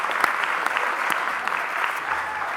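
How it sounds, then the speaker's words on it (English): An audience applauds steadily for a bagpiper at a 2018 college graduation ceremony, the dense, continuous clapping holding at an even level throughout with a few sharper claps standing out. "A round of applause for Erin."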